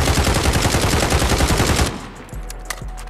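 Rapid full-auto bursts from a CR56 AMAX rifle in the video game Modern Warfare, loud and sustained for nearly two seconds before cutting off, followed by a couple of isolated shots and quieter game sounds.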